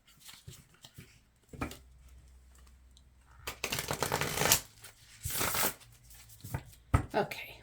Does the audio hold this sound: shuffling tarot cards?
yes